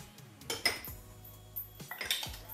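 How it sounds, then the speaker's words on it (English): Peaches being spooned into individual ramekins, with a few clinks of a metal spoon against dishes spaced through a short, quiet stretch, no talking. "So I'm gonna just spoon the peaches into each ramekin."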